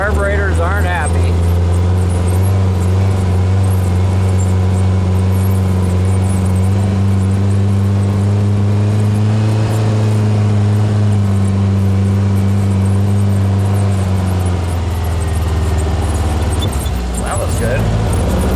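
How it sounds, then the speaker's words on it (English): Dune vehicle on sand dunes, its engine loud and close as it revs in first gear with the carburetors struggling, a steady throbbing drone that rises and falls, with someone talking over it. "First gear, and the carburetors aren't happy."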